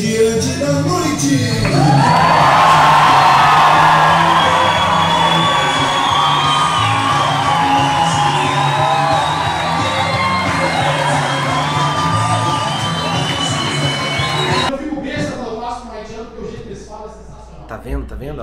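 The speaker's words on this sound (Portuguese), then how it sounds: "com muitos aplausos e gritos ensurdecedores" Comedy show audience cheering loudly on a second stage, a sustained roar of shouts, whoops and yells with clapping underneath, swelling early and staying dense before dropping sharply near the end, where a voice talks.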